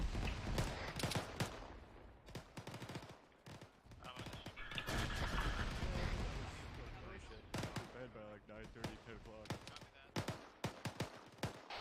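Rifle gunfire in the military shooter Arma 3 rings out in rapid bursts and single cracks, some near and some more distant, mixed with radio-style voices talking over the firing.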